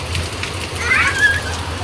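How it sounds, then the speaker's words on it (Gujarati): First rain of the season falling in Surat, a soft steady patter with a faint low rumble and a brief bright chirp partway through. "પણ વરસાદ આવી ગયો છે"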